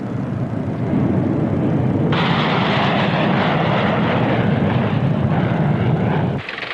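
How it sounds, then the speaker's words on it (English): Military fighter jets fly in an Operation Red Flag training exercise. A loud, sustained roar of jet engines builds and then holds as a broad, harsh rush before cutting off abruptly near the end. "Flying against them, almost every jet in the American inventory."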